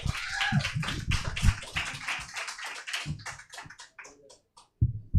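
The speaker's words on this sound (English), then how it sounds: "Clap it up for AJ" An audience claps for comedian AJ at a comedy show, a close patter of claps that thins out and fades to near silence before a last burst at the end.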